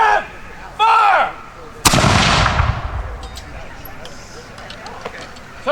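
A ceremonial cannon salute at Sagtikos Manor fires one loud, close blast with a long rolling decay. It follows shouted commands from people nearby, and faint voices continue afterward.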